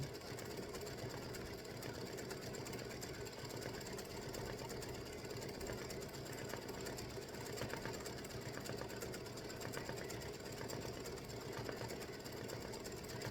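A sewing machine stitches felt baseball bases for a tic-tac-toe game set, an even, unbroken motor hum with fast needle chatter running steadily and fairly quietly throughout.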